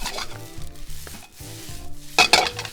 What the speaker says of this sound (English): So let me toss this together.